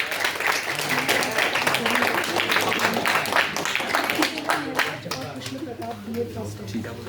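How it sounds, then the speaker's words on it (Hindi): Clapping from an audience at a quiz competition after the first round's winner is announced, a dense, steady wash of many hands lasting throughout, with voices mixed in. "उनके लिए एक बार जोरदार तालियां"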